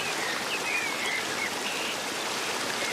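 Spatialized waterfall sound effect, a dense, steady rushing wash of falling water, enveloping and constant with no pauses, heard alone.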